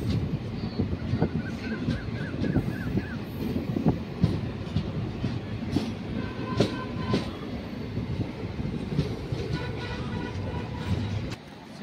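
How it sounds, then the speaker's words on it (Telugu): A train runs fast on rails with a continuous rumble and rhythmic clickety-clack. Brief squealing tones and clanks rise now and then over the roar. "రన్నింగ్లో ఫాస్ట్గా వెళ్తుంది కదా ట్రైన్"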